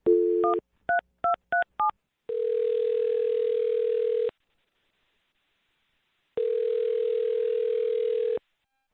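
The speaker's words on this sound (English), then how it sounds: "I'm going to dial her phone number right now" Phone call being placed: a short dial tone, then five crisp touch-tone keypad beeps, followed by two long ringback tones with a silent gap between them, loud and clear.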